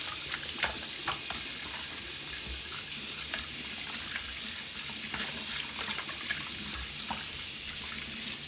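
Water from a sink tap runs steadily while dirt is rinsed out of work gloves, a continuous close splashing stream with small irregular spatters and no voices.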